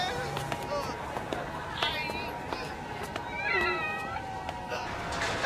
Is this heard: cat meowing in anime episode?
yes